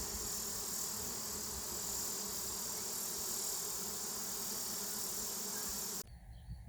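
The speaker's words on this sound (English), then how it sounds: "I'll let these bees settle down and see how big the swarm looks." A honeybee swarm hums in a dense, steady drone that fills the air outdoors, unbroken for several seconds before cutting off abruptly near the end.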